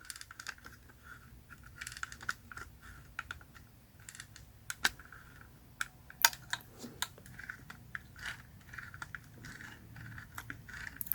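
Small plastic ratchet joint on a Transformers Legacy Evolution Toxitron Grimlock toy, clicking in faint, sharp ticks scattered unevenly across a quiet background, some clusters of quick clicks and a few louder snaps.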